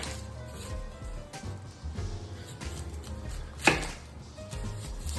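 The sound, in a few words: cutting an onion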